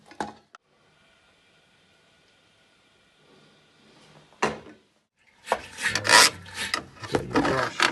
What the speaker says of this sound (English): If you put a little bend on these brushes, you'll be able to scrape out all that scum in there.